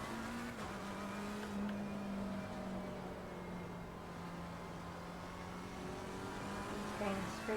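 A race car engine in a sim racing game holds a steady, droning tone with gradual pitch shifts throughout, running continuously under occasional speech.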